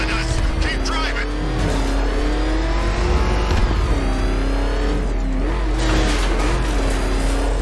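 A car engine in the Batman Arkham Knight video game drones and revs steadily, its pitch rising and dipping as it drives continuously, loud and close, under speech.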